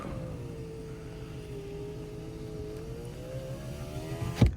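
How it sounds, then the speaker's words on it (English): Power windows on an Infiniti Q50 VQ37 roll up slowly with a steady, slightly wavering motor whine over a low idle rumble, ending in a brief thump as the glass seats. "the last thing I really dislike about this vehicle is how slow these windows roll up"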